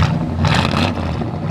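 A 1974 Chevrolet Monte Carlo engine runs loudly through dual exhausts with glass packs and chrome tips, a deep, throaty, rumbling note heard up close.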